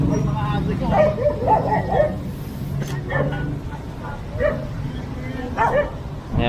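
Several dogs, among them a Labrador, yip and bark in short bursts at moderate distance amid street noise, with people talking over them throughout.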